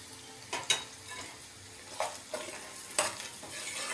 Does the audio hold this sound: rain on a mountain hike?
no